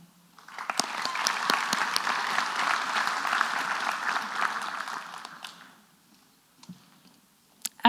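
Audience clapping at a school prize-giving ceremony, a warm burst that swells for about five seconds, then tapers off to a few scattered claps.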